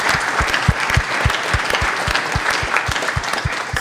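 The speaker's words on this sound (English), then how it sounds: "Give yourselves a big round of applause" A live studio audience applauding: loud, close, continuous clapping with a dense steady patter and a few sharper individual claps standing out, without speech.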